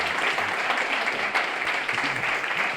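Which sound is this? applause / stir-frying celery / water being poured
applause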